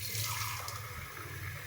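Water poured from a glass tumbler onto washed rice in a home kitchen, a steady close splashing trickle running throughout with no talking.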